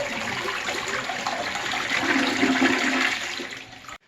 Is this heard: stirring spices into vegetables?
no